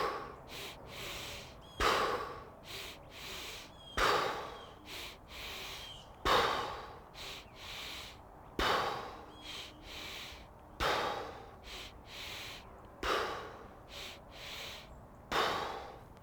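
Repeated breathing exercise: a double sniff inhale, a short one followed by a fuller one, then a long audible exhale, cycling about seven times at a steady pace, close-miked and breathy with no speech.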